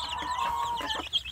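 Young free-range village chicks with a poor appetite cluck and peep in a steady, busy stream of close, soft calls that fills the whole moment.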